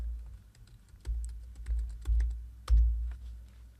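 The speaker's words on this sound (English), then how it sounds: "now if I type in my ZID, and I type in the password" A password is typed on a computer keyboard at a lab machine login, a quiet run of separate key clicks with a few heavier thuds that come and go, and no voices.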